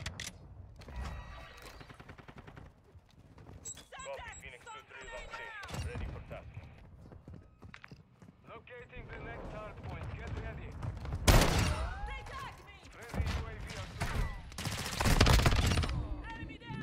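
Expedite 12 shotgun fired in Modern Warfare II: a run of loud, close blasts spread irregularly through a busy stretch of gameplay, the heaviest bursts clustered near the end amid clattering weapon handling and other game noise.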